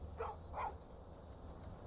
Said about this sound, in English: Just a random dog out there.